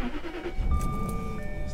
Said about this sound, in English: Time to start up the Jaguar S-Type R.